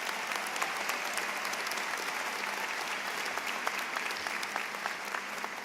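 A large crowd applauding steadily, a thick continuous roar of clapping that holds at the same level from start to finish.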